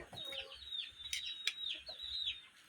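Domestic hens clucking close by in a rural Thai village yard, a run of short repeated clucks and calls over a quiet background with no speech.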